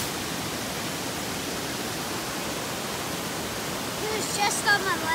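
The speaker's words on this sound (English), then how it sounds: "That's a waterfall." Steady rushing water from a waterfall on the Old Stone Fort Trail pours without a break, a broad even roar throughout, with a few faint high chirps near the end.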